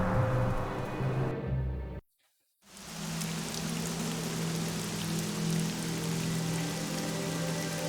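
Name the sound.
rain sound in the video game Neverwinter Nights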